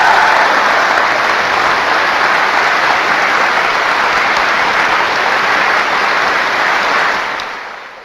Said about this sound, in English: That applause lasted 1 minute and 20 seconds.